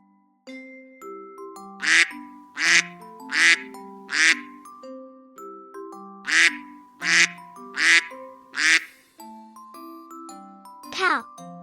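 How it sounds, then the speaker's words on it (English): A cartoonish duck quacks in a fast, loud series of eight nasal calls, grouped in two bursts of four, closing with a short rising squeak over a light musical backing. "duck."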